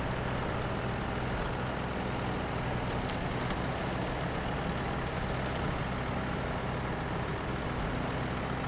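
Truck from the SnowRunner video game driving off-road on an Alaska logging mission, with a steady loud engine drone and rumble throughout, plus a brief hissing burst partway through, with no talking.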